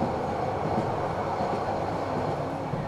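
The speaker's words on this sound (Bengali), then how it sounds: "ছুটছে ট্রেন" A train runs along rails with a steady, loud rumble and a faint rattling clatter of wagons, continuous throughout with no talk.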